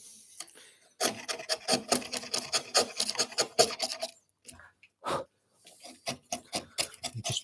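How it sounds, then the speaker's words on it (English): A chisel pares wood on a halving joint, rasping scraping strokes in quick bursts with a short pause before resuming, close and clear with no speech. "So we turn the chisel over so we're not going to go any deeper."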